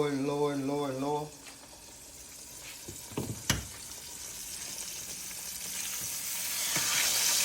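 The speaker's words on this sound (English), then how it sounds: "And you listen when it go to cooking and when it start getting done, it'll calm down." A pork chop frying in a pan, a soft steady sizzle that grows gradually louder, with a brief stretch of singing at the start and a couple of clinks partway through.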